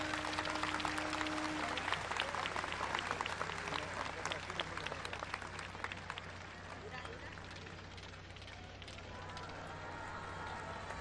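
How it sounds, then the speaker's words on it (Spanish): A crowd at a public program event in Acayucan, Veracruz applauds, scattered clapping that is strongest at first and then thins while a voice talks over a faint amplified hum. "Con un fuerte aplauso de todos nosotros"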